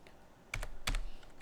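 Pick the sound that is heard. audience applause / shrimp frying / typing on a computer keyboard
typing on a computer keyboard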